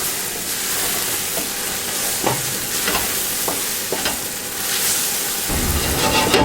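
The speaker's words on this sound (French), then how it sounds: "Je mets de l'oignon et je vais faire roussir le jus." Chopped onion browning in a frying pan with its juices, a continuous close sizzle broken by several sharp scraping stir strokes, the frying growing louder near the end with no talking.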